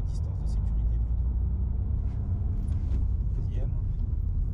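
A manual car pulling away slowly in first gear on a clutch slip without throttle, a low steady engine rumble heard from inside the cabin while an instructor talks over it.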